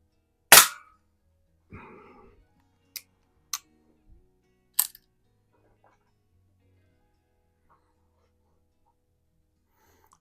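Rohm Twinmaster Match air rifle fired at a can, a sharp crack followed by several softer metallic ticks and pops of pellets striking, spaced across quiet moments outdoors.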